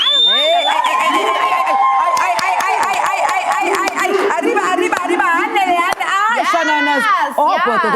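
A studio audience at a television show cheers, whoops and claps loudly and continuously, with shouts and dense crowd noise filling the whole stretch and sharp hand claps cutting through.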